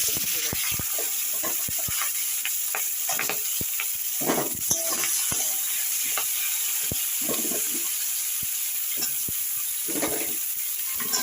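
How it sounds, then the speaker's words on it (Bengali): Dried Bombay duck fish and chopped vegetables being stirred in a frying pan with a spatula, giving steady scraping clatter over a soft continuous sizzle, close and moderately loud. "এইভাবে কিছুক্ষণ নাড়াচাড়া করব"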